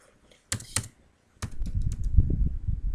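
Short bursts of computer keyboard typing as a patient code is entered, a quick cluster of keystrokes, then a pause, then a denser run of taps, close and fairly quiet with no voices.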